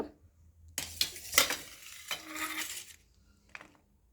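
A cooking pot of chole masala is opened, with metallic clatters of lid and pan, a brief scraping rattle, then a softer clink near the end, close by and without talk.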